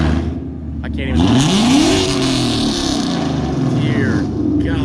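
A Ford Mustang Shelby GT350R engine revs loudly nearby, a deep roar that climbs in pitch, holds at high revs and settles back to a rumbling idle.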